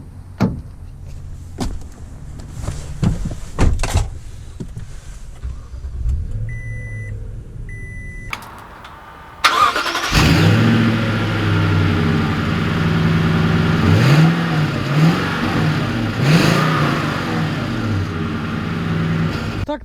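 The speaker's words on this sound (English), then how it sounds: "let's take this TRD Sport out to see how it drives" Quiet clicks and a few soft chimes inside a 2020 Toyota Sequoia TRD Sport SUV give way to a sudden loud engine start, then a steady close engine rumble as the vehicle idles and pulls away.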